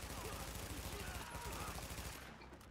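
Rapid gunfire from a pistol in Tom Clancy's The Division, a dense run of repeated shots at steady loud level through the short stretch, tailing off near the end.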